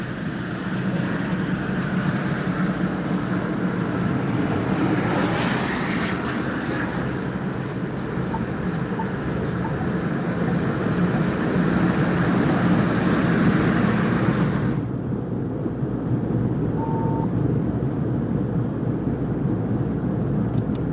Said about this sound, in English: So let's focus car wash now.